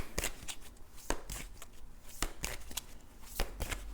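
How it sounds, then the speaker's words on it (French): Tarot cards being shuffled and drawn, a quick series of crisp papery flicks and snaps in an irregular rhythm, close and fairly quiet with no talking. "Je vous tire une autre carte."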